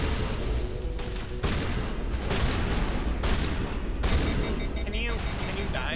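Shotgun blasts in an alien-shooting video game, a run of loud, dense bursts repeating every second or so over heavy game noise, with talk in between.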